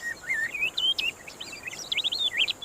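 A cattle tyrant bird calls in a rapid series of thin, high chirps and twittering notes, loud and close, continuing without pause against a steady faint hiss.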